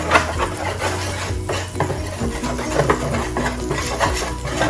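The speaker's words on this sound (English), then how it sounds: "Gonna whisk that in to the drippings that are in the pan" A whisk stirs flour into roast chicken drippings in a metal pan, scraping steadily with light sizzling and clinking throughout, close and continuous with no talk.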